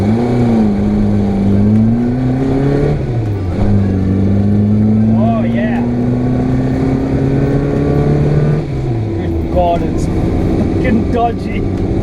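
A Renault 5 classic race car, a turbo racer with poor straight-line tracking, drives with a loud, steady engine drone whose pitch rises and falls through gear changes, with faint squeaks over the top.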